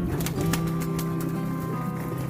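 Pigeons coo continuously in a loft at feeding time in the early morning, a steady layered murmur of low throaty calls close by, with no talking.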